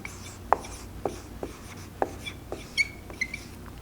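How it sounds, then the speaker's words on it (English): Pen writing by hand on paper or a board during an English grammar lesson, a series of short distinct scratches and taps in an uneven rhythm, close and moderately loud over a faint hum. "I'll just write it here."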